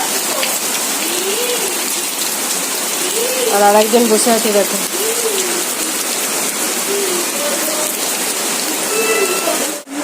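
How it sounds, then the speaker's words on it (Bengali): Heavy late-monsoon downpour pours steadily on a rural home, a dense close hiss of rain that continues throughout, with voices talking under it. "এখন মুষলধারা বৃষ্টি এসে গেছে, কি অবস্থা দেখেছো?"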